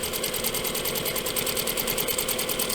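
A sewing machine runs steadily while stitching a double welt pocket, its needle clattering in a fast, even rhythm up close with no pauses.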